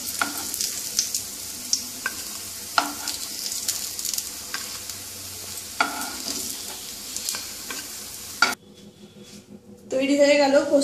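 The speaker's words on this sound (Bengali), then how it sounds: "বড়াগুলো ভাজা হয়ে গেছে," Poppy seed balls (posto bora) frying in oil, a steady sizzle broken by sharp spatula and pan clinks, cutting off near the end to a quieter stretch and then a burst of louder clatter.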